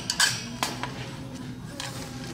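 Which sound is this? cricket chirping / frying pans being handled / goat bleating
frying pans being handled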